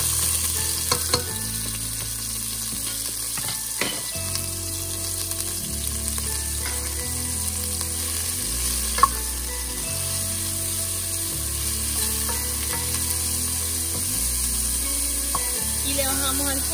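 Chopped onion fries in olive oil in a hot pan, giving a steady, close sizzle with occasional stirring scrapes and clinks and a low hum running underneath.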